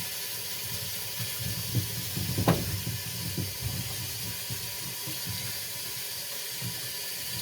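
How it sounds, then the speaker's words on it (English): Freshly harvested beets and carrots are washed in hot water at a sink, with a steady soft hiss of running water and a few brief splashes and clunks partway through, close and quiet. "So now I'm just washing everything in hot water."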